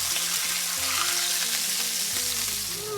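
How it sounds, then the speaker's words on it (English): Smash burger patties sizzle on their first side, a dense, loud, unbroken hiss of fat frying on a hot griddle, with a low hum running beneath it. "And then you're gonna cook the first side for 1 to 2 minutes until it's nice and crispy."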